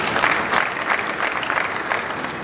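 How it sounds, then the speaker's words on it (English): Audience applause at a national party convention, a steady dense clapping from a crowd that swells in soft waves throughout, fairly close and continuous with no talk over it. "Clap for her now, Pastor Uzoma."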